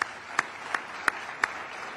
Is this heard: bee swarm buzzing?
no